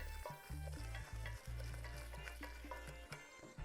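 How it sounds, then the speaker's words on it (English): A wooden spoon works a thick bechamel paste around a hot pan, with scraping strokes and soft sizzling layered over a steady low hum from the stove. "Just keep adding and giving it a stir until we get a paste going."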